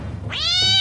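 A single close meow rises sharply out of low background rumble, a clear, drawn-out tonal cat cry that swells and holds to the end.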